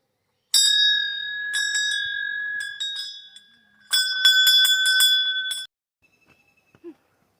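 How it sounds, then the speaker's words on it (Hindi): A temple bell in a forested Himalayan hill village area, Kothila, rings in two bursts of repeated bright, ringing strikes, loud and close, each ending with a shimmering decay, followed by near silence. "घंटी बजाते हैं"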